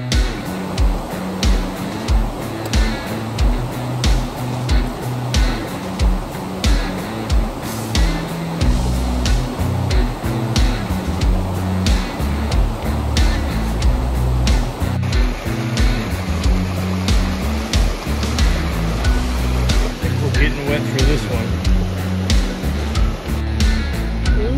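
A river rushes and churns steadily at a hiking crossing in the Great Smoky Mountains, a continuous loud wash of water with a close, rough texture throughout.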